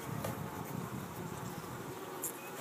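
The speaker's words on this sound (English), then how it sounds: "These are drones. Those are the male bees." Honeybee drones and workers buzz in an open hive during a spring inspection, a soft, steady, close hum with no talking.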